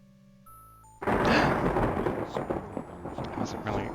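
Thunder in the video game Quest for Glory IV: Shadows of Darkness erupts as a sudden, loud, rolling rumble after a few soft synthesized tones, then churns on with crackling swells for several seconds.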